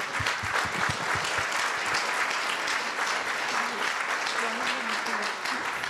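Warm, sustained applause from a conference audience at a French panel on digital health, with a voice briefly audible beneath the steady clapping.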